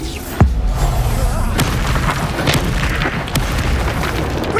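A Bombarda spell explosion from Hogwarts Legacy lands as a single loud boom early on, followed by a rumbling tail and a few lighter impacts under the ongoing noise of combat.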